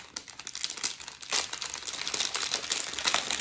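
Crinkly plastic packaging of a diamond painting kit being opened close up, a continuous dense rustle and crackle with brighter crunchy bursts, no talking.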